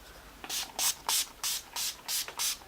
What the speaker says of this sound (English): let's spray her face. I'm going to use my Urban Decay De-Slick Setting Spray.